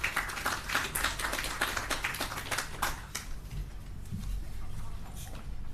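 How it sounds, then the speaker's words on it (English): Hands clap loudly and rapidly in a sharp, close burst at a cyber security awareness day event, dense at first then thinning into scattered claps as low room noise continues. "I'm sorry if I was clapping too loud."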